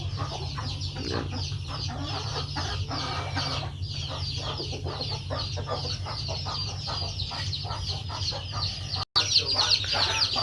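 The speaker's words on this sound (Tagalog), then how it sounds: "Tingnan niyo yung mga manok, hinihintay na sa pagkain nila." Hungry chickens on a farm cluck and chatter busily while waiting for their feed, a continuous overlapping flock sound with a low background hum and a sharp knock near the end.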